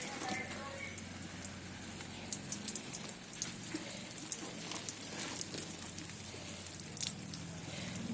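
Homemade buttermilk fungicide is poured over potted plants in winter, landing as a patter of soft splashes and drips like light rain, fairly quiet, with occasional brief wet spatters.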